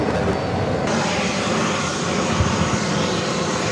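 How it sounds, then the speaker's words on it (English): An Aer Lingus Airbus A321LR arriving from Shannon comes in to land at JFK with a loud, dense, steady jet roar that stays close and unbroken throughout. "That was an Aer Lingus A321 LR long range coming in from Shannon."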